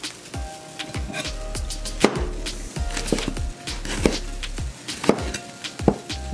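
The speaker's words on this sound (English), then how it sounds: "I'm gonna start by just cutting up the pimento peppers here." A knife chops pimento peppers on a cutting board in a home kitchen, each sharp thud landing in a steady rhythm of about one stroke per second, close and clear with no talking.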